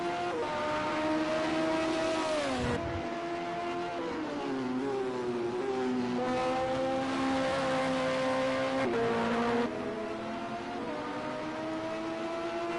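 A Honda-engined LMP2 prototype race car in the Project CARS 2 racing game, its engine droning loudly and steadily throughout with rising and falling pitch through gear changes and throttle, sounding close and continuous with no talk.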